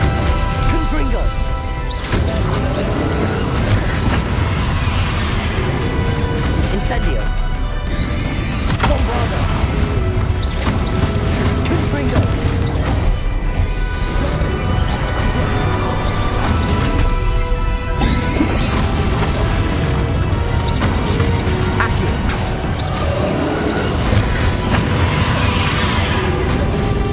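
Confringo blasting spells explode in Hogwarts Legacy, a dense, loud run of crashing blasts and whooshes stacked over constant game noise, with several heavier impacts standing out.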